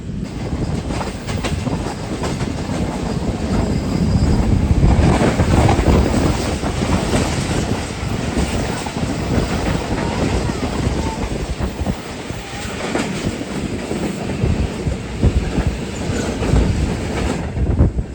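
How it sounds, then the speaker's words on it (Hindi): The Karachi Express rolls through Bin Qasim railway station, a loud, continuous roar of wheels and coaches with rhythmic clickety-clack and wind buffeting, steady for the whole stretch with a slight swell midway. "ये 15 अब कराची एक्सप्रेस थी जो कि अभी हमें मिली है बिन कासिम रेलवे स्टेशन पर"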